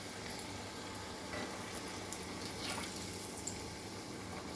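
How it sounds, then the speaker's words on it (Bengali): Pieces of sweet dough for goja fry in oil, a quiet, steady bubbling sizzle with soft crackles and occasional small pops, heard close but faint. "দেখো ভাজছি, আশা করি ভালোই হবে।"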